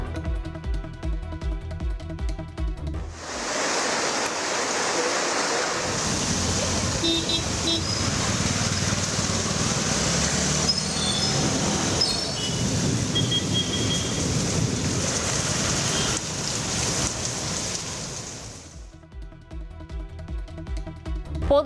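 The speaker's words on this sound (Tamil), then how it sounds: "மாலைக்கு மேல் கனமழை வெளுத்து வாங்கியது" Heavy rain pours over Chennai streets with traffic about, a dense, steady roaring wash that rises suddenly, holds for a long stretch and then drops away, with other sound before and after.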